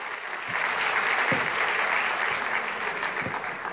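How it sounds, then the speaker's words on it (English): A small audience at a preschool annual function claps steadily in a dense, even wash of applause that holds at the same level throughout, with a few slightly louder individual claps standing out. "Can we have a huge round of applause?"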